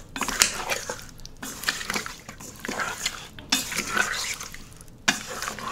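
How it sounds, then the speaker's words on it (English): Chopped pork being mixed into a marinade in a bowl, with steady wet stirring and scraping, soft squelching and occasional clinks of a utensil against the dish, close and continuous. "Once you get all your pork chopped up, just add it to the marinade and just mix it well."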